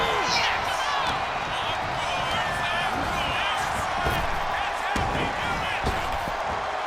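Wrestling flapjack slam onto the ring mat during a WWE Monday Night Raw match, a sharp thud rising over a loud, steady arena crowd roar, with commentators talking throughout.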